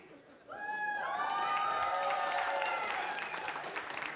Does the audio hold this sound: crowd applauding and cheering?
yes